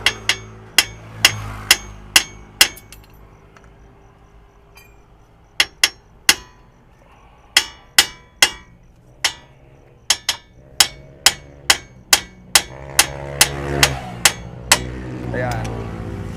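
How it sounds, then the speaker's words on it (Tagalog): A hammer pounds the loose ball joint on the suspension arm of a Mitsubishi Mirage, giving sharp, ringing metallic blows in rapid bursts of strikes with brief pauses, close and loud, with some talk underneath. "Pupukin mo ng martilyo ito dito."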